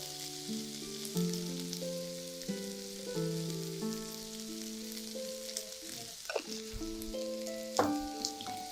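A bread ball mixture is stirred in a sizzling frying pan, a steady close hiss of frying with soft scraping stirs over a bed of background music.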